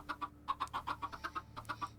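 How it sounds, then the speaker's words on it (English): Young chickens cluck softly in a quick, uneven series of short calls, faint and fairly close, with no talk over them. "those are now adult chickens, I think, are they? No, I think they're still baby chickens."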